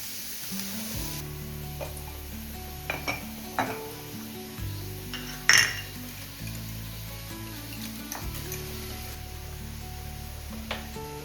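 Chopped onion sautéing in a pan for a dried-fish chutney, a steady soft sizzle with repeated spoon scrapes and stirring clatter, one sharper knock of utensil against the pan midway, close and alone without talk.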